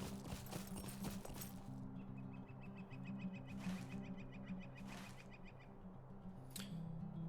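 Hoofbeats of a horse ridden around in the online game LOTRO, steady clip-clop over a bed of farm-fair ambience with bird calls, moderately close and fairly quiet.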